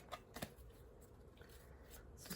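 Tarot cards shuffled by hand in a few quick riffling bursts, soft papery flutters spaced across a quiet room.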